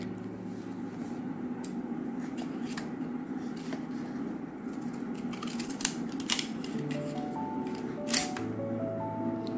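Scissors snipping a paper picture of a lamp in a kids' cutting activity, a series of short crisp snips and paper rustles over a steady background hum, close and fairly faint.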